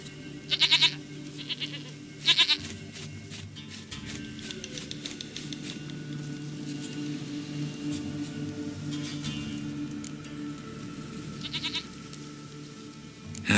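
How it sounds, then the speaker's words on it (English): Goat bleats from The Witcher 3 video game, a few short bursts near the start and another later, rising over a steady low ambient hum. "Goat of mine, dearest, sweetest goat."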